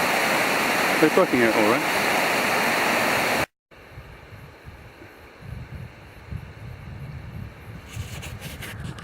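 A river current rushes loud and close in a broad steady roar, then cuts abruptly to a quieter, fainter flow with a person speaking over it.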